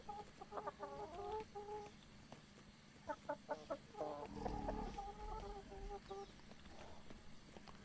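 Chickens in a farm yard cluck in short rhythmic bursts, fairly faint, with a low background rumble and a person talking quietly.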